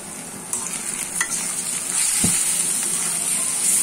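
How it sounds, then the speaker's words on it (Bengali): Onions frying in a pan for fish do-piyaza, a steady hissing sizzle that grows denser toward the end, with occasional clicks and a scrape of stirring, close and loud, with no talking. "এই দু পেঁয়াজির মধ্যে পেঁয়াজটা যত ভালোভাবে ভাজা ভাজা করবেন, দু পেঁয়াজিটা খেতে তত ভালো লাগবে।"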